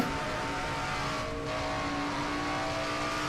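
Race car engine of the number 21 Band-Aid Chevrolet in a racing video game, a steady droning whine held loud and constant throughout with a slight dip midway, no voices.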